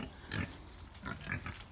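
Pigs in a straw-bedded pen grunt and snort in short, faint bursts close by, with no talk over them.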